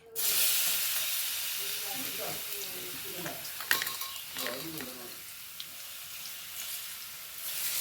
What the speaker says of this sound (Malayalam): അതൊന്ന് വാട്ടി കൊടുക്കാം